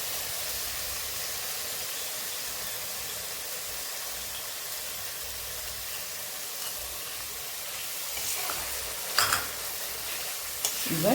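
Spice paste stirred into water is tipped into a hot pan for a spicy chital (knife fish) kaliya, giving a steady broadband sizzle that swells with stirring scrapes near the end.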